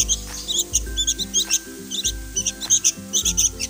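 A sooty-headed bulbul chick calls in repeated short, high chirps, fairly close, over steady background music with stepped low tones.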